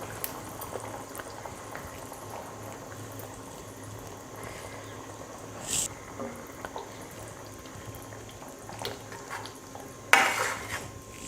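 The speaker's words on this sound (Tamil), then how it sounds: "அந்த முட்டையை சேர்த்துக்கலாம்." Thick non-veg curry bubbling at a steady boil in a pot as five boiled eggs go in, a low continuous simmer with a few soft clinks and one sharper pot knock near the end, no voices.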